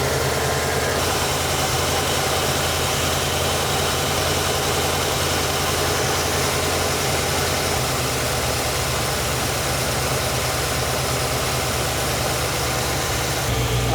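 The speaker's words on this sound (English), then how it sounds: "I'm going to let it idle for a little bit." A steady idle from an engine fitted with a knockoff carburetor, running a little rich, a low continuous rumble with constant vibration and no revving, with faint background noise of rain above it.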